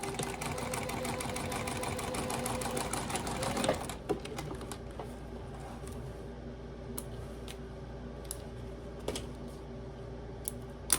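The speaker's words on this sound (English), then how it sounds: "you stitch just under that same card slot all the way across, tying off at beginning and end or back stitching well" A sewing machine stitches beneath a wallet's card slot in a dense, rapid whirring burst for about four seconds, then goes quiet apart from scattered small clicks and handling noises.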